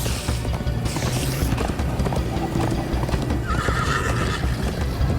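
In Minecraft Story Mode, a galloping horse's hoofbeats pound on without a break, with neighs and a busy, loud game soundtrack layered over them.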